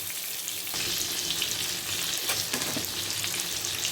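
Fish fillets of valai (ribbonfish) frying in hot oil in a pan with curry leaves and green chilies, a steady loud sizzle running continuously with no talking.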